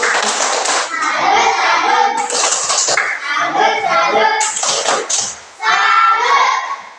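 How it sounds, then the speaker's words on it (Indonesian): Children in a group perform a 'tepuk salut' clapping chant, voices calling out in unison over sharp rhythmic hand claps, loud and close, in several bursts separated by brief pauses. "Mari kita berikan tepuk salut untuk Jessica"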